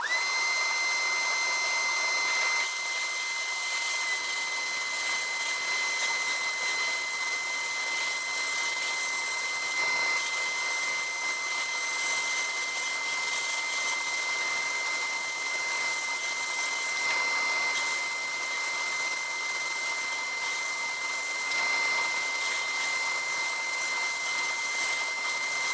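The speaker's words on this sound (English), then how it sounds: "I'm going to go ahead and blast these airplanes." Abrasive blasting of airplane parts ahead of powder coating, a loud continuous hissing roar over the steady drone of a running vacuum system, unbroken throughout.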